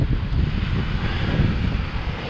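Wind blowing on a coast during drone fishing, roaring steadily into the microphone as a loud, constant rumble with no voices.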